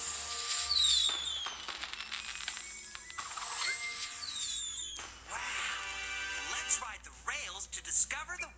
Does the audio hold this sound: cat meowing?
no